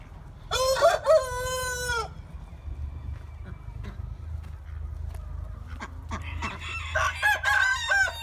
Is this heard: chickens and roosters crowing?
yes